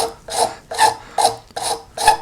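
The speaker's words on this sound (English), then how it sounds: "You can start with a fine rasp. Just take off the initial" A fine rasp files the end of a carved wooden hanging shirt held in a vise. Five even back-and-forth strokes give a close, scratchy rasping rhythm with short gaps between them.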